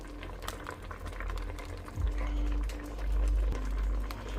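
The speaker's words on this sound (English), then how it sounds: "I've got it now all bubbling away and boiling away" Homemade HP sauce made with soft pitted dates bubbles and boils in a pan, a steady low rolling simmer with a fairly close, continuous churn that swells slightly toward the end.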